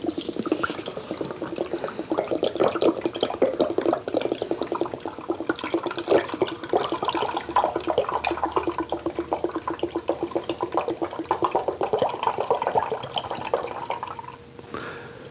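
Milk, 2.5 cups, poured into a cooking pot for holiday eggnog: a continuous close liquid gush and splash lasting about fourteen seconds before tapering off, with no talk over it.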